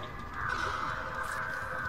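Crows caw in the video game Dead by Daylight, harsh repeated calls over a steady ambient game background.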